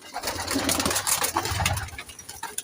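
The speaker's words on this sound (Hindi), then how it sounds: "बिशारत भाई से जो कबूतर लिए हैं उनका शो करवाता हूँ।" Pigeons cooing close by in a loft with eggs and chicks, a continuous layered run of soft throaty coos from several birds.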